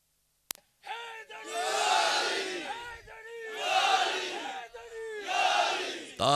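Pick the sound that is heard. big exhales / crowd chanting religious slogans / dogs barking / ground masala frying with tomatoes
crowd chanting religious slogans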